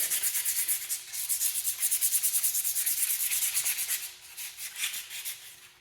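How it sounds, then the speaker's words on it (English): Sandpaper rubs steadily against a forged railroad spike tomahawk in quick back-and-forth strokes, loud and close, easing into lighter, more spaced passes near the end. "hit it with the sandpaper one more time just to clean it up"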